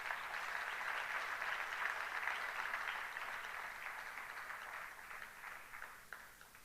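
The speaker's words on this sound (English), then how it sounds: "Please, let's give them all a big round of applause." Audience applause for the musicians after a Bharatanatyam-style dance performance with vocals and instruments, a steady, moderately distant wash of many hands clapping that slowly thins toward the end.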